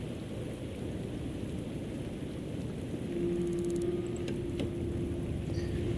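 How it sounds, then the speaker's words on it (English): Heavy rain pours steadily in a video game city, a dense even hiss throughout with a faint tonal hum entering halfway. "I was on my way to the city hall in heavy rain"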